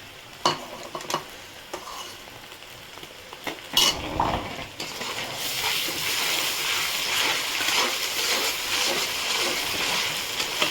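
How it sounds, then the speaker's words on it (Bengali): Ginger and garlic frying in a pan after browned onions, a spoon scraping and stirring against the metal with a steady sizzle that grows denser and louder partway through, close by with no talking. "আদা রসুনটা একটু ভেজে নিই।"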